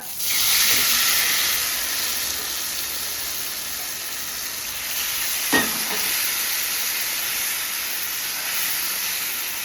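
Elephant apple (chalta) pieces fry in hot oil with mustard seeds in a pan, giving a loud, steady sizzle and hiss, broken midway by a brief clatter of stirring.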